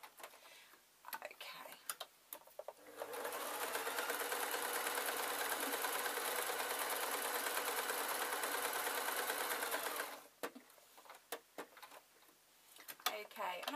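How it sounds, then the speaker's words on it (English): A sewing machine stitching fabric for a small tray runs in a steady, rapid, close mechanical whir for about seven seconds, with light clicks and handling sounds before and after. "I'm just going to sew halfway down this short side"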